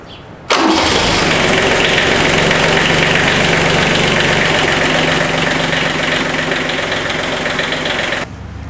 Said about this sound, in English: Now we need to let the engine run for about 5 minutes.